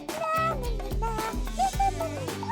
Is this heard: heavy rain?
no